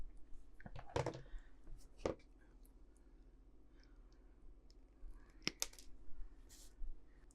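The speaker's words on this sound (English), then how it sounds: "I've got to cut these details off here." Small details are cut off plastic model kit parts for a great white shark jaws diorama, giving a few sharp, quiet snips and clicks spaced apart, with soft handling noise between them and no speech.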